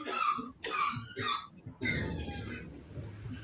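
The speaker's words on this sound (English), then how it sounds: "Nope, that is a human coughing." A person coughs in several short, harsh bursts, fairly faint and close, with a longer rough cough trailing off at the end.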